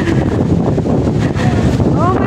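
Strong wind buffets the microphone in a steady, loud roar throughout, with faint voices underneath, outdoors at D'Mall, Boracay.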